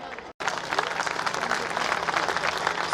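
Loud, sustained applause and clapping from a large crowd at a Dussehra festival and weapon-worship gathering of a Kshatriya Rajput association, filling the space continuously after a brief pause.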